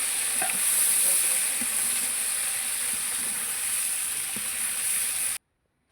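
Brinjal and other vegetables sizzle steadily in a pan for a Gujarati curry, with a constant frying hiss, occasional soft stirring clicks, and a brief drop to silence near the end.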